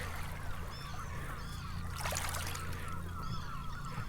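Terns call harshly overhead as they swoop at a rock hunter, repeated honking cries at moderate distance over steady background noise with no talking.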